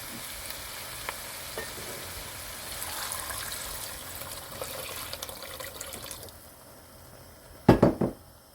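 A pot of lamb and cauliflower curry sizzles steadily, then water is poured in near the end with a short, loud splashing gush.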